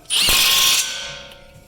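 A power drill whines loudly for under a second, then spins down and fades away, during a CV axle replacement on a Honda Odyssey.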